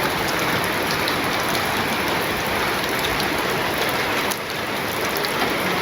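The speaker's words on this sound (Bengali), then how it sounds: "মোটামুটি ছিটা ফোটা বৃষ্টি নামছে" Light rain falls in the evening in a village, a dense even patter of drops that holds steady and close throughout.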